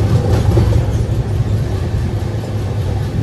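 Howrah–Jagdalpur express train running through tunnels, heard from inside a 2AC coach near the rear: a loud, dense low rumble of wheels and carriage noise, steady throughout with no voices.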